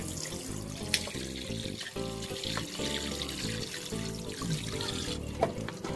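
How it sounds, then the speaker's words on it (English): A crab with its shell removed is rinsed under a running kitchen tap, water splashing steadily into a sink with brief knocks and clatters, close and moderate, no talk. "Let me just wash off the middle bits."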